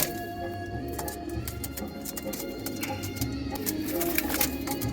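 Pigeons in a home loft coo softly and repeatedly, with rustling and light clicking around them, fairly close.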